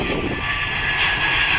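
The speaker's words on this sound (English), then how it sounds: "And we've got an EasyJet landing there." An EasyJet airliner roars steadily as it comes in to land, a broad continuous engine whine at moderate distance outdoors.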